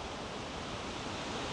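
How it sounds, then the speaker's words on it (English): Waves roll onto Mount Maunganui Beach in the early morning, a dense, even wash of surf noise filling the short stretch with no voices. "The waves roll in as they always have."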